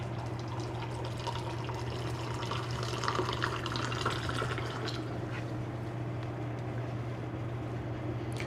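Hot water poured and aerated for brewing a raw black tea, a steady close splashing and trickling with a constant low hum underneath, brightening briefly in the middle before settling into an even pour.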